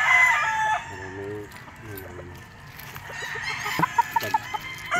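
A Red Kelso stag gamefowl rooster crows at a game farm, its call wavering and fairly close, amid other fowl clucking and sharp knocks, with faint voices in the background.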